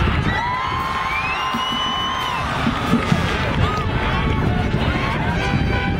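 Freshman students yelling and cheering together in a class yelling contest, a loud continuous crowd roar with rising whoops and shrieks sustained across the whole stretch.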